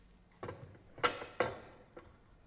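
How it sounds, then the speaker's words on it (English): A pasta attachment for dough sheets is fitted onto the drive of a Bosch MUM 5 food processor, producing a few sharp plastic clicks and clunks, close and fairly quiet, spaced irregularly with two stronger knocks in the middle. "Turn the swivel arm down and position the pasta attachment for dough sheets on the drive."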